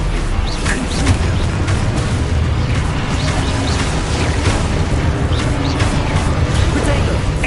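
Spell explosions in the Hogwarts Legacy video game: a loud, dense barrage of booms, crackles and magical bursts layered continuously, with shouted incantations over the top.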